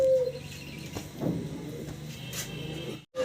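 Fancy pigeons kept for sale give soft, low cooing calls close by amid faint background noise, ending in a brief silence.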